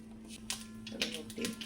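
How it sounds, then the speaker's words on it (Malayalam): Mustard seeds popping in a small amount of hot oil in a pan: a few scattered sharp crackles over a steady low hum, fairly faint. "കടുക് പൊട്ടട്ടെ കേട്ടോ"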